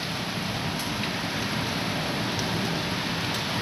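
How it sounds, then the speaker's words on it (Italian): Heavy thunderstorm rain pours down steadily outside a window with a roller shutter, near the grounds of the former Mombello asylum gardens. It makes a dense, even hiss and patter that holds constant throughout, with no voices. "Questi sono i temporali. Abbasso un po' tapparella, ma dopo non prende bene, ma qua prende tutta la pioggia."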